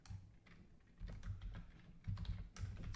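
Rapid typing on a computer keyboard while coding, with close, uneven clusters of key clicks and a few heavier strokes, heard alone without speech.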